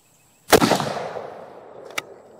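A single loud CZ 600 Lux rifle shot rings out with a sharp crack and a long decaying echo, followed by a fainter distant report about a second and a half later.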